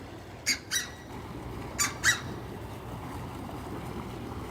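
Several sharp bird squawks at a zoo ring out in two pairs, each call short and harsh against a steady low background hum.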